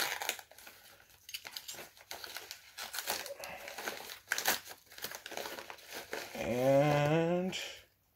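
Crinkly plastic packaging being sliced and torn open with an X-Acto knife, a run of close crackling and crumpling bursts, with a short voice-like tonal sound near the end.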